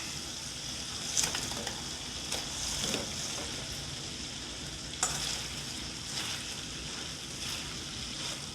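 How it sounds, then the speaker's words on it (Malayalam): Fried chicken 65 is stirred into a thickened sauce in a pan, a steady close sizzle with occasional louder scraping bursts as the pieces are turned. "ഇനി നമുക്ക് വറുത്ത് വെച്ചിരിക്കുന്ന ചിക്കൻ ഇതിലേക്ക് ഇട്ട് മിക്സ് ചെയ്തെടുക്കാം."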